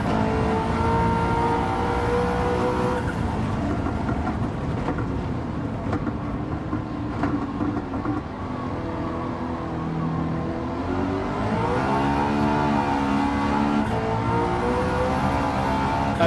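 A powerful McLaren race car engine in a racing game revs and accelerates steadily, its pitch sweeping up through the gears and then climbing again, loud and continuous with no talking.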